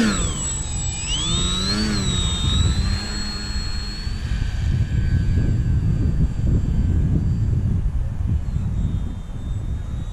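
A Parkzone ArtiZan RC model plane flies at a public park, its electric motor whining and shifting pitch as it passes, followed by a steady buzzing drone with wind noise underneath.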